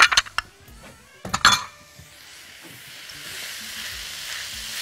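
Meat for fried rice balls sizzles in a pan after a few sharp clatters of utensils against the pan, then settles into a steady, moderate hiss with no talking.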